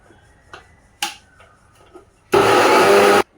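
A kitchen mixer grinder whirs loudly for about a second, blending green chili paste with cashews and a little water, after a few light taps and clicks.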